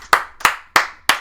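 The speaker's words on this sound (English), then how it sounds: "Round of applause," Four sharp hand claps in an even rhythm, close and loud, each ringing briefly before the next, with no other sound.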